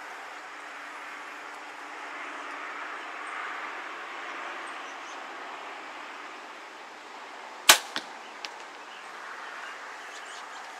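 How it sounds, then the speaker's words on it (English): A 2023 Hoyt VTM 31 compound bow looses an arrow downrange outdoors: a single sharp snap of the release followed by a couple of small trailing knocks, set against faint steady background hiss. "I'll send another shot down range real quick and see if y'all can hear it okay"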